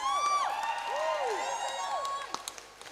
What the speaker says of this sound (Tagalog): Palakpak nyo, dagdagan ng galak.